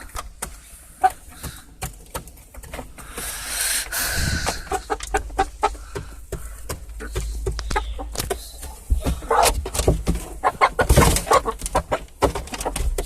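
Chickens cluck and chatter close by in a steady stream of short, scratchy calls, with occasional rustling and scuffling and no talking.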